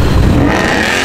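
A Ford Escort RS Cosworth engine revs loud and close at a performance car show on a racing circuit, a brief sustained burst of dense engine roar.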